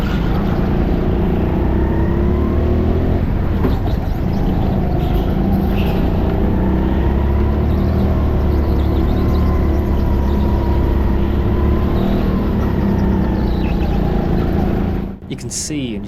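Go-kart engine droning steadily through a lap at the TeamSport Stockton indoor track, loud and continuous with rising and falling pitch, cutting off near the end.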